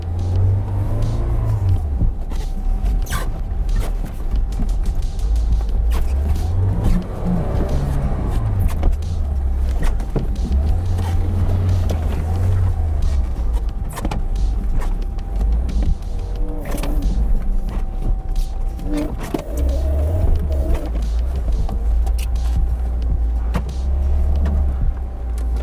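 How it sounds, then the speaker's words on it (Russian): A Lada Niva Bronto climbing a hill off-road, its engine rumbling low and loud with repeated surges of revving, plus creaks and clunks from the drivetrain as it labours uphill. "Но едет Нива, смотрите-ка, в горочку едет"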